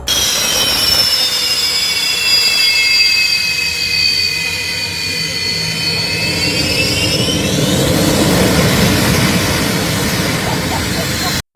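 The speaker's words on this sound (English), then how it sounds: "This jet blowing away the ground crew." Loud, sustained roar of a Boeing 747's jet engines at high thrust, blasting ground crew, with a whining tone that drifts and rises near the end, steady and close throughout.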